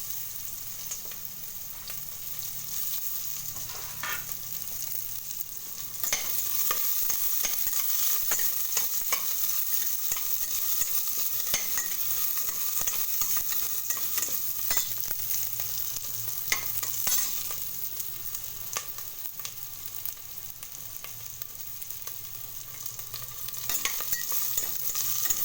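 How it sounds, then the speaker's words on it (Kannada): Cumin seeds frying in oil for a simple rice khichdi, a steady close sizzle with scraping spoon strokes throughout, getting a little louder partway through and holding at that level. "ಜೀರಿಗೆ, ಎಲ್ಲ ಎಣ್ಣೆಲಿ ಹುರಿಬೇಕು"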